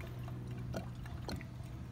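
Radiator fluid pours through a no-spill spout in a faint, steady liquid trickle with a few soft splashy bursts, heard alone without talk.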